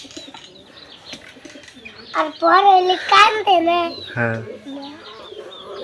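Soft cooing from two pet pigeons together runs underneath the chatter of a woman and a child, with the bird sounds low and intermittent between the voices.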